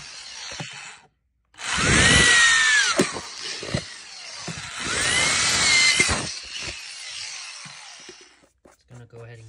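A power drill bores holes through the base of a hard plastic or resin flower pot in two loud, sustained bursts with whining spin-up tones, separated by short pauses and followed by quieter handling noises.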